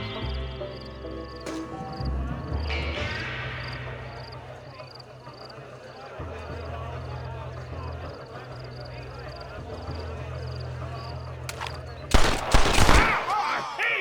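Gunfire rings out in a Red Dead Redemption shootout, with a few scattered shots early and a loud burst of rapid shots near the end, over a low ambient game score.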